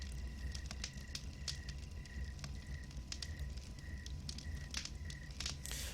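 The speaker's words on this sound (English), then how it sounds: "you guys hear the crackling fire, and the crickets" A campfire crackles softly with scattered pops while crickets chirp in steady repeating trills over a low background hum, in a forest night ambience for a Dungeons & Dragons game map.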